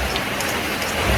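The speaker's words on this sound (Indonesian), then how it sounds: "ternyata masih hujan" Rain falls steadily on a mountain campsite during a climb of Mount Sindoro, a dense, even hiss of drops on surfaces with no pauses, fairly loud and close.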